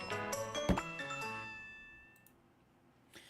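A bright victory bell rings out from a game, a few clustered chiming strikes with metallic overtones that ring on and fade slowly, then one faint final tap.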